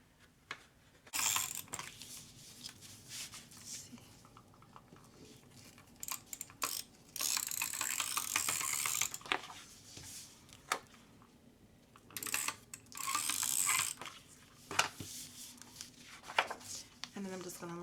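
Paper being cut for planner decoration gives crisp, close bursts of cutting and sliding, scattered irregularly between quieter handling pauses.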